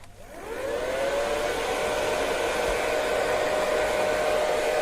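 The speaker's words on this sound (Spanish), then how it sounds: "¡Secadora de pelo!" A household hair dryer switches on and roars steadily, its whine rising quickly to full speed and then holding a loud, constant airflow hum, with no voices.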